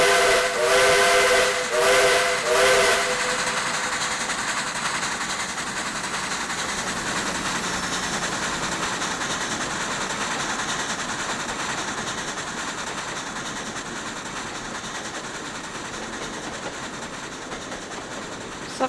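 In the Trainz game, Southern Railway steam locomotive 4501 sounds a loud whistle in a few short repeated blasts, then a long steady hiss of steam and rumbling train noise follows.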